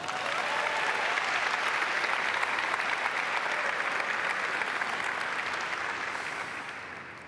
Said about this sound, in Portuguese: Agora sim, pode dar um aplauso ao Senhor.